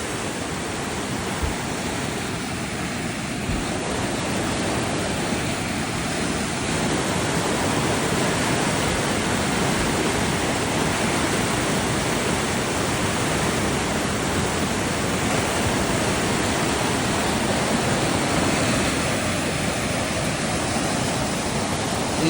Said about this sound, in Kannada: ಇದು ನೀರು ಹರಿತಾ ಇರ್ತಕ್ಕಂಥ ನೀರು